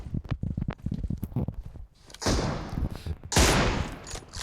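Rapid bursts of video game gunfire crackle loud and close in a shooter match, with choppy clusters of shots early on and then two sustained blasts of noisy firing.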